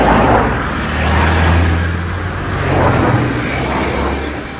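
Several identical cars speed along in a chase, a steady loud engine roar and whir with swelling passes, continuous throughout with no voices.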